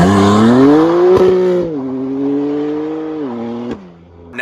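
A BMW F82 M4 with catless downpipes, mid pipes and the stock muffler revs hard and loud up close, its exhaust note climbing, then easing back and holding at a steady drone with a couple of brief dips, with no talking.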